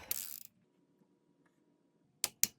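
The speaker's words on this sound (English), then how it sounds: "then I tighten it to 22 pound-feet of torque" Torque wrench ratcheting on a rocker arm bolt of a C6 Corvette engine during a camshaft swap: one burst of clicking, then two short sharp clicks after a quiet pause, close and fairly loud.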